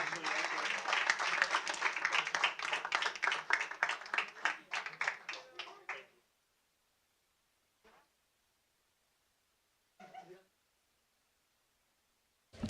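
An audience at a school board of education meeting gives parents a round of applause. The clapping is brisk and fairly close, lasts about six seconds, then stops, leaving near silence broken by brief faint rustles.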